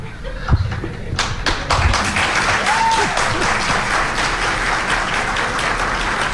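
Audience clapping at a live event, beginning with a few sharp separate claps that build into steady, sustained applause filling the room.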